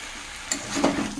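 Malabar spinach stems and potato pieces fry in a pan for a chicken curry, giving a dense, close crackling sizzle with a brief stirring scrape partway through.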